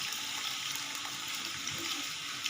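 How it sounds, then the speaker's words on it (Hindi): Soaked rice tipped into boiling yakhni stock for vegetable pulao, giving a steady close watery rush and bubbling hiss that holds evenly for the whole moment without any talking. "यखनी में उबाल आ चुका है। अब मैं चावल शामिल कर रही हूँ।"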